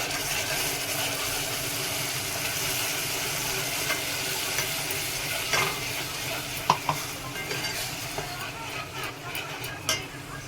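Ground masala paste sizzles in a frying pan for a spicy prawn curry, a steady loud hiss with stirring scrapes and a few sharp clinks of a spoon against the pan.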